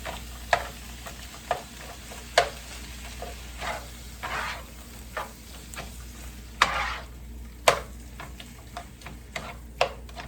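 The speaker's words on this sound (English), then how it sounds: "So we'll add that and get it stirring around and mashing it around." A spoon stirs and mashes canned soup into sausage and rice in a pan, producing irregular clacks and scrapes over a soft, steady low cooking sizzle.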